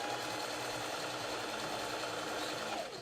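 A sewing machine stitches continuously at a steady fast hum and rattle, close and loud throughout, slowing slightly at the end.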